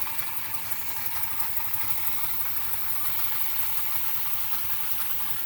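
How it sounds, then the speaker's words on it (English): A small German Märklin model steam engine toy runs continuously, giving a steady, fast mechanical whirring and chuffing hum with fine rapid pulses, close and fairly quiet, with no voices. "Neat little engine."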